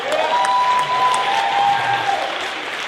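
Steady applause from an audience, sustained clapping throughout with a faint tonal hum underneath.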